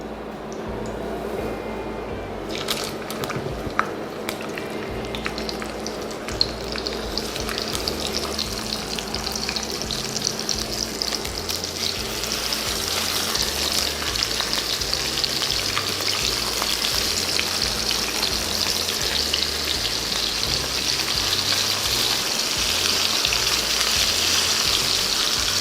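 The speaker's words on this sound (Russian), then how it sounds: "голову обжариваем с каждой стороны минуты по 3, по 4 до приятного колера такого" Steady, close sizzling and crackling of a salmon head frying in a hot pan over maximum heat, growing louder and denser over time with no talking.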